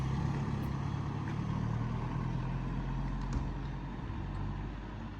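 Audi A6 C7 driving away, a low steady engine and road rumble that slowly fades as it moves off, no talk.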